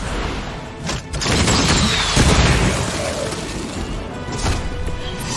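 Heavy artillery blast in the Marvel Midnight Suns video game, a loud, dense burst of booming explosion and crashing debris rolling on without a break for several seconds, with no talk over it.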